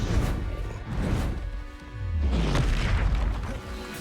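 Confringo blasting spell explosions in the video game Hogwarts Legacy, two heavy booming bursts with a rumbling low tail, loud and close, the second longer and swelling.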